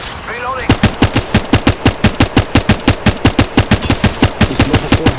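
Automatic weapon gunfire from the video game Apex Legends rattles off in a rapid, evenly spaced burst of loud shots after a brief quiet start, carrying on to the end.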